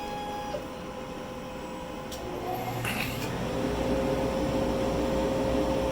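A machine cuts a 12 by 12 inch piece of plywood while a vacuum runs, making a steady, close whirring hum that swells slightly louder partway through, with no talking.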